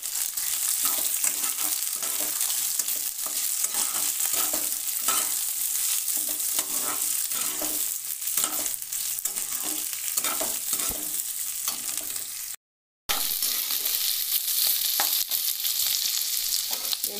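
Thick-cut onion and large capsicum pieces frying in a pan, a dense steady sizzle with rhythmic stirring scrapes, close and loud, broken by a brief silent gap before the frying resumes.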